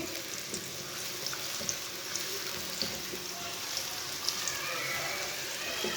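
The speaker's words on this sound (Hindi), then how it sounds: "ऐसे ऐसे चम्मच चलाते हुए ब्राउन करना" Finely chopped medium onion sizzling and frying in a pan as a spoon stirs it, a steady crackle with occasional light scraping taps throughout.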